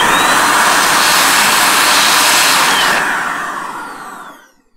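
A handheld electric duster blasts a loud, steady rush of air for about three seconds, then winds down and fades out as it is switched off.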